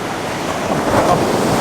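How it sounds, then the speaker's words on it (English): Ocean waves break on the shore in the foreground, making a steady, loud roar of surf with a gentle swell midway and wind noise on the microphone. "just some of the waves breaking in the foreground"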